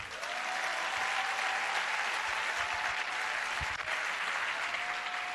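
A church congregation applauding: dense, steady clapping from many hands that fills the space evenly throughout, with a faint sustained tone underneath.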